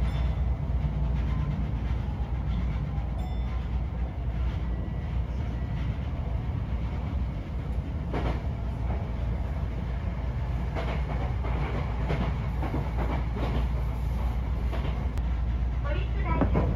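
Steady low rumble inside an express train bound for Kawagoe-shi, running from Yokohama toward Shibuya, with continuous wheel and track noise and occasional faint clatter throughout.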